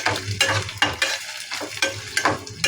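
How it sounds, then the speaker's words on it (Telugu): Thinly sliced onions fry in hot oil for a Guntur karam fish fry, sizzling steadily up close while a utensil stirs them in repeated scraping sweeps. "మనం 1 నిమిషం ఉల్లిపాయ వేసుకోవాలి ఫ్రెండ్స్"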